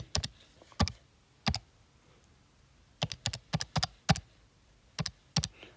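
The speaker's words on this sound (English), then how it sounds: "Let's type that in." Numbers are typed on a computer keyboard in short bursts of crisp, close key clicks separated by brief pauses, with no talking.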